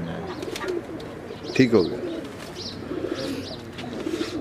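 Teddy pigeons, a black and blue bird among them, coo softly in a loft, with one louder close coo standing out against steady background bird calls while someone speaks briefly.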